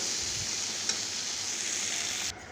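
Drumstick curry with sesame frying in a pan, a steady close sizzle running unbroken for a couple of seconds before dropping away abruptly near the end, with no voices.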